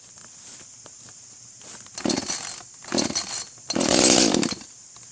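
Echo CS 310 14-inch gas chainsaw with a 30.5 cc engine cutting spring poles, its idle hum rising into three loud, revving cuts of about a second each, close by with no talking.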